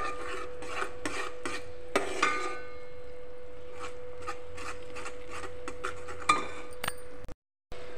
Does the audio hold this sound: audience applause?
no